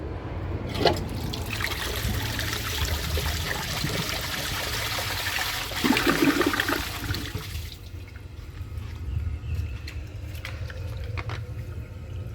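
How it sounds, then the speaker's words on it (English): A 2005 Briggs Abingdon open-rim toilet flushes a washcloth with a loud rushing swirl of water that drains away after several seconds, leaving a quieter trickle and refill. "I've never seen an open rim toilet fail a washcloth"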